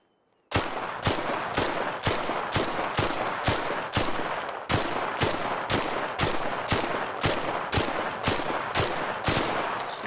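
Stitcher gun in the video game Arc Raiders firing a long, steady stream of rapid shots, about two per second, loud and close with no pauses after the first shot.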